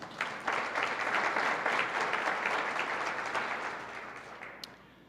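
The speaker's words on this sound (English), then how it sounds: "Please show our appreciation to everyone who has made today's event possible with a round of applause." A forum audience at a 2018 legislative preview event gives a round of applause, a dense, even wash of many hands clapping that holds steady and then slowly fades out toward the end.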